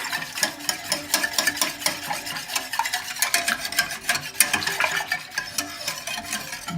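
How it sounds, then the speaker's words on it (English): A whisk beats a mixture inside an Instant Pot in quick, rhythmic, scratchy strokes against the metal insert, heard up close and alone. "Give it another whisk."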